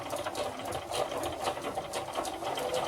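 A sewing machine with its presser foot down stitches a quarter-inch quilt seam, a continuous close whirring hum with a fast regular pulse and no talk over it.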